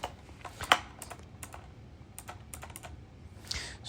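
Typing on a computer keyboard while entering terminal commands: scattered soft key clicks with one sharper tap, close and quiet over low room noise.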